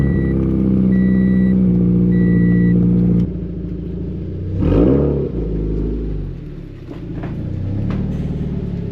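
Subaru BRZ engine idling loudly and then revving in a few swelling bursts as the car pulls into a garage, close and dominant with no talk.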